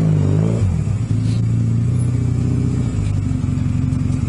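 Honda CB250 scrambler motorcycle engine revving up and settling back, a loud, close, rough-edged exhaust note that climbs, drops and holds at a throbbing idle.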